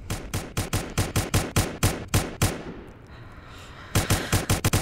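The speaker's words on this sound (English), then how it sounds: "We're gonna shoot some guns." Guns fire outdoors near a cabin in rapid, loud, close bursts of sharp shots. A brief pause breaks the shooting before a fresh volley of quick reports starts up again.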